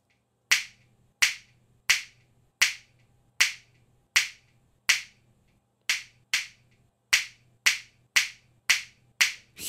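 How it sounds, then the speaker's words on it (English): Sharp finger snaps recorded a few meters away in a room, about fourteen evenly spaced crisp clicks, each trailed by a short roomy reverberant tail, with no voices. "So I just recorded the same finger snap a few meters far away."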